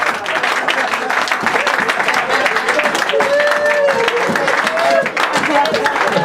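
Congregation at a church service applauding and cheering the Lord, a dense sustained wall of clapping with crowd voices and shouts mixed in.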